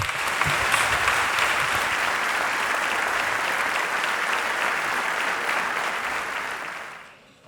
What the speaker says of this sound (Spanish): Les damos un aplausaco enorme